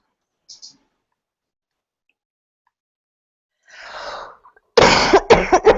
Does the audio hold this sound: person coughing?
yes